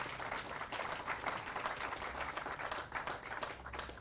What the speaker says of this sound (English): For a round of applause for those folks